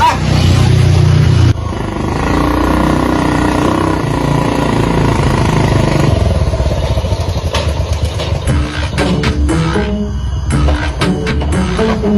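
A motorcycle engine runs loudly and steadily, with a heavy low rumble at first, then uneven revving and clattering bursts toward the end.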